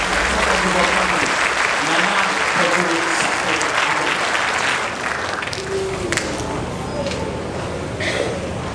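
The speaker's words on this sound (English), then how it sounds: "Let's give a round of applause for the CEO of the company" Loud, sustained applause from a crowd at a tech expo in Ghana for a company CEO fills the clip, dense clapping that fades slightly toward the end.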